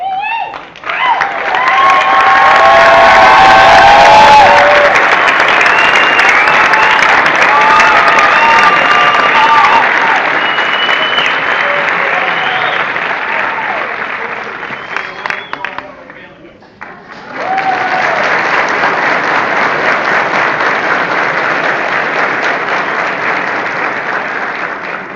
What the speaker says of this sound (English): Give your family and friends a huge round of applause.